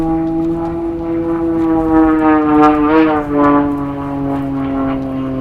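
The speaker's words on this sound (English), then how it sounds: "Man, I love the sound of a 6-cylinder Yeah. howling away at that." Extra 330 SC aerobatic airplane with a six-cylinder engine and new propeller flying at an aerobatic competition, a loud sustained harmonic engine howl with pitch gently sliding as it passes close by, no talk.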